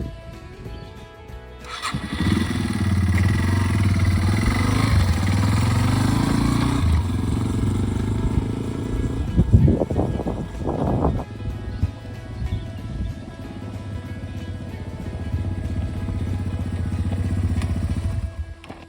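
Motorcycle with puncture-sealing goo in its tyre starting up and riding off, its engine running loud and steady with a brief burst of clatter midway, then idling and revving on.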